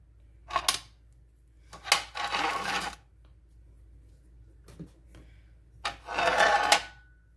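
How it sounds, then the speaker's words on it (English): Orange being zested on a grater in a home kitchen, several short scraping bursts of rasping strokes separated by quiet pauses, close and fairly soft. "First thing I'm going to do is zest my orange."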